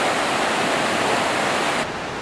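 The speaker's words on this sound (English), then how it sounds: "This is the river just above the falls." The river just above Burney Falls in California rushes steadily as a dense, continuous roar of flowing water, heard alone with no voices.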